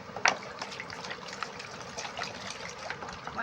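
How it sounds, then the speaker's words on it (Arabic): Tap water pours steadily into a jar of olives being prepared for pickling, a faint, continuous gushing with a brief splash near the start. "ازود كده بعد كده ميه عاديه"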